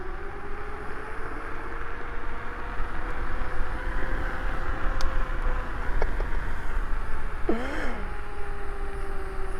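Hiboy Titan Pro dual motor off-road electric scooter accelerating hard in dual-motor mode 3: a thin electric motor whine climbing steadily in pitch beneath heavy, rushing wind noise, with a brief warbling tone shift near the end.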